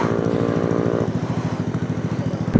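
A Honda ADV 160 scooter engine running while riding, a close rapid rhythmic putter that steadies and shifts pitch slightly partway, ending with a brief louder burst.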